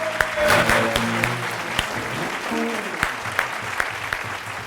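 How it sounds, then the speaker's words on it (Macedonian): A studio audience on a talk show applauds for Peppermint, a short burst of clapping under a low tonal music sting that gives way to scattered claps. "Еден аплауз за Пеперминт"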